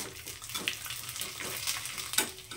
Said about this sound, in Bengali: এতটুকুই ভেজে নেবো এখন